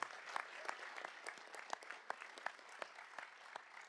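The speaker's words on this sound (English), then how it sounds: "let's give them a round of applause" An award ceremony audience claps in a quick, dense patter of many hands, moderately distant and fairly soft, with no talking over it.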